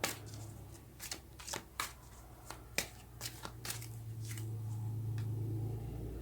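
Tarot cards are shuffled and drawn in a series of crisp, close riffling snaps and slaps during the first few seconds, giving way to a quiet steady hum with no talking.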